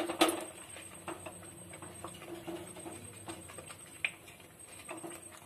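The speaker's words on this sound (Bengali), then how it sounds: "দিয়ে সব সময় নাড়তে হবে যাতে দলা না পাকে।" Semolina stirred in a pan gives quiet, irregular scraping and tapping of a utensil against the metal, with one sharp clink near the start and another a few seconds later.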